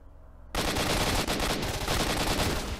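Gunfire in the video game STALKER: Shadow of Chernobyl, a sudden loud burst of rapid automatic shots after a brief quiet lead-in, sustained and dense until the end.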